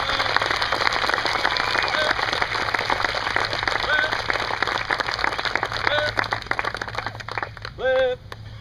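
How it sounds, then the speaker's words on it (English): Steady, crackling applause from a crowd at an Army Family Day honoring a drill sergeant and soldiers, continuous and moderately distant, with a voice briefly rising near the end. "give Drill Sergeant Strickland and these soldiers a round of applause"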